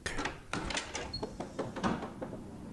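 A sticking door opened from the inside, with a series of scraping knocks and rattles as it is forced, in a quiet indoor hallway.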